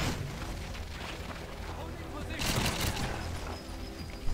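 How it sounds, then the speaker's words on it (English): A grenade blast in the shooter game GoldenEye Reloaded erupts as a sudden loud boom partway through, rolling over a steady din of in-game gunfire and rumble. "There's a grenade."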